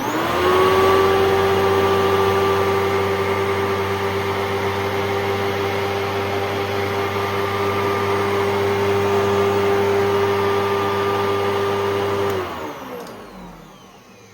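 A Eureka WhirlWind LiteSpeed vacuum cleaner with its original brush roll runs steadily near the microphone, a loud droning motor whine with a constant hum, then winds down at the end, no voices.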